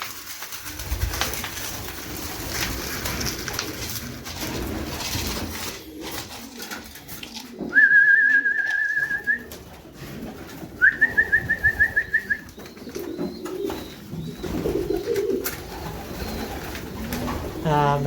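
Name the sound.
pigeons cooing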